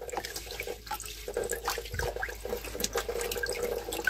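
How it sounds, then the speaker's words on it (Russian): A kitchen tap runs steadily into a sink while dishes are washed without detergent, a close continuous splashing rush with small clinks and drips, no talking. "Ну вот напор воды моей."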